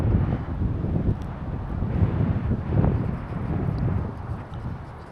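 Strong gusty wind buffets an outdoor flying field where a UMX Conscendo RC plane is flown, a loud continuous low roar with surging gusts throughout and no talk.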